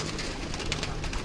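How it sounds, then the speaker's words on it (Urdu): A Lal Pari pigeon coos on a rooftop, a soft, close, steady murmur with no talk over it. "لال پری کبوتر، اپنی مثال آپ، ان کی گردن، ان کی آنکھیں، اور ان کا وجود"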